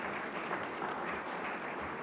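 A room full of people at a leadership celebration clapping for recognized investors, a soft, distant, continuous patter of applause with no talk on top.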